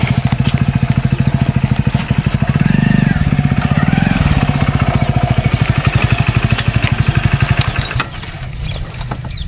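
A motorbike engine runs steadily up close, its fast even pulsing loud throughout, with a brief louder surge near the middle and slight easing toward the end.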